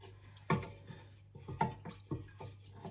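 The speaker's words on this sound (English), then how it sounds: "I will just give it a little stir just to go lumpy" Beef and potatoes being stirred in a pot, with a few distinct spoon scrapes and clunks against the metal spaced about half a second apart, fairly quiet and close.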